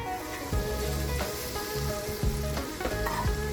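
Onions fry in a pot for Ubo Nkong soup, a close, continuous sizzle with occasional stirring scrapes.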